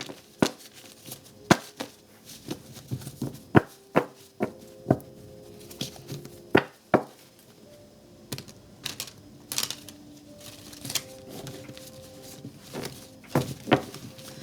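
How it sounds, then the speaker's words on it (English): A deck of oracle cards is handled and shuffled by hand: a quiet, irregular series of sharp taps, clicks and light slaps, close up, with soft rustling between them and no talk. "I hate shuffling these cards. They're so difficult."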